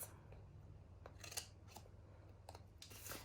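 Scissors snip paper several times in quick, irregular cuts, close and quiet, with faint background hum and no voices.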